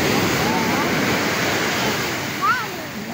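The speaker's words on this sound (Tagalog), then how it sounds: "Gawa nga po malaki nga po ang naging alon." Heavy ocean surf roars steadily as a broad, continuous wash, with faint voices carried over it near the shore.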